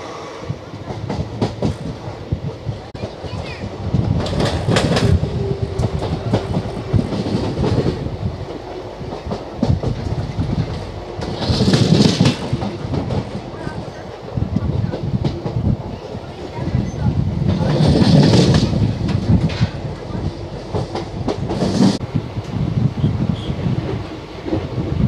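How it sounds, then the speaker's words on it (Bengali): The Santragachi SF Express runs from Samalkot toward Chennai, its steady rumble and rhythmic clickety-clack of wheels over rail joints carrying on throughout, with wind buffeting and periodic louder surges of track noise. "আমাদের ট্রেন সামালকোট থেকে ছুটে চলেছে এবার চেন্নাইয়ের পথে"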